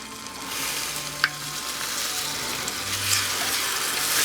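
A syrup mixture with white corn syrup for banana bread French toast bubbles and sizzles steadily in a pan, a constant close hiss with a brief clink partway through and no talking.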